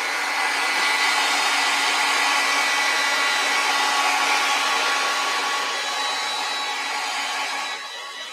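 A hair dryer blowing on a watercolor painting, a loud steady close whoosh with a constant motor whine that runs almost unbroken, easing slightly at the very end.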